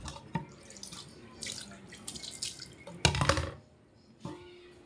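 Tap water running and splashing intermittently while cleaned fish with the heads removed are washed, in short bursts with drips and one louder gush, near and without talk.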